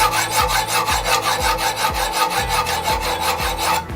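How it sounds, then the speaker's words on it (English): Hard steel knife edge being reground on 200 grit stones in a Wicked Edge GO sharpener, giving a loud, steady abrasive rasping with regular stroke pulses about every half second, alone with no talk. "I'll just slide these same 200 grit stones on, and I'll just start to work here at the front of the knife, recreating the bevels"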